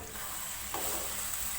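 Okra (bhindi) masala cooks in a pan over a medium flame, giving a continuous low sizzle with light stirring noises and a brief clink partway through.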